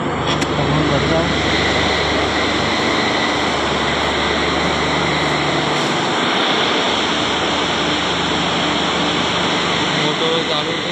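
Water pump house motors run at a pump station in the rain, a loud, steady broadband roar and hum lasting throughout.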